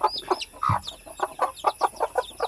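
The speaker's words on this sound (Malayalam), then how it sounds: "കഴുത്തിന് തുവല്ലാത്ത കോഴിയാണ്" Naked neck chickens clucking close by in a rapid series of short, throaty calls, one louder squawk early on, with no voices.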